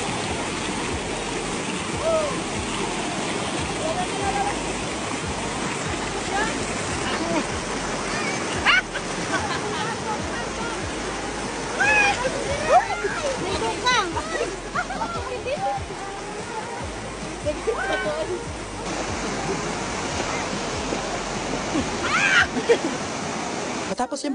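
Clear, cold mountain spring water flows and splashes around large rocks in a rural province, a continuous rushing stream with occasional splashes, and faint voices now and then.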